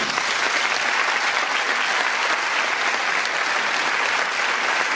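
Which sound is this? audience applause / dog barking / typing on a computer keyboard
audience applause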